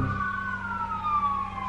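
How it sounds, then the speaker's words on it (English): A police car siren in Waikiki wails steadily, its pitch sliding slowly downward, fairly loud as if passing nearby, with a low engine rumble underneath. "Those sirens?"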